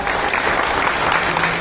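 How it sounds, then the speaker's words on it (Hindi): An audience at a journalism event in Humnabad applauds for the chief guest, a dense, loud burst of clapping that stays steady throughout. "उनके लिए तालियां"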